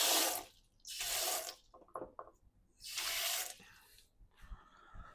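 Water pours from a tap into a dish of potatoes in short bursts, three loud splashing runs separated by quiet pauses with small clinks and drips between them.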